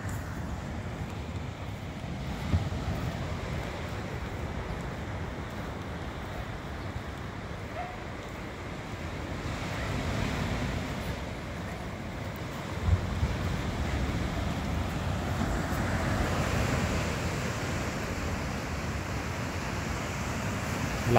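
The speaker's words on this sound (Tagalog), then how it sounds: "Lakas lang ang alon." Strong ocean surf at high tide roars steadily, with broad washes of waves and wind buffeting the microphone, with no talking.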